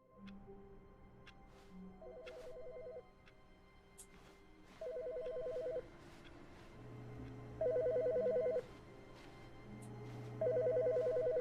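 Telephone ringing inside the video game The Stanley Parable, four evenly spaced electronic ring bursts each lasting about a second, with a steady ambient game hum between them and no talking.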